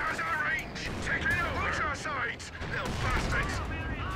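Panzer IV tank cannon fire in the World War II strategy game Company of Heroes 2, repeated sharp shots and gunfire amid battle noise, heard under steady talking.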